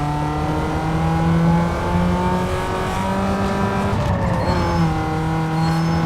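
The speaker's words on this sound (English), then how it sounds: "the bass booster vibrates heavily when pulling away with this car, with this little Peugeot" A small Peugeot's engine pulls away in Need for Speed Underground 2, a loud, steady bass-heavy drone with rising rev harmonics and a brief shift near the four-second mark, continuous throughout with no talking.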